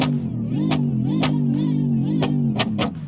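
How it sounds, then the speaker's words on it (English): A 200-horsepower street car in the video game Automation holds a steady, loud engine drone while its exhaust pops and bangs in sharp bursts, roughly six scattered cracks over three seconds. "but the exhaust will pop and bang"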